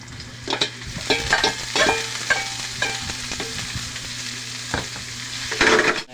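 Onion and chayote fry together in a pan for a bean sprout spring roll filling, with continuous close sizzling broken by repeated clattering spatula strokes and scrapes, and a low hum underneath.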